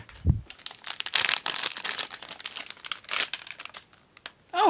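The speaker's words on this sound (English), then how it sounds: "I don't have scissors, that's why I'm using the knife." A knife slicing open crinkly plastic packaging on a Dragons-themed loot crate, a long run of close, loud crackling and tearing with short pauses, no talking.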